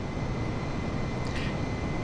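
Cessna 421 twin-engine aircraft in flight within a flight simulator game, a steady, loud engine drone and hum that holds constant and alone the whole time.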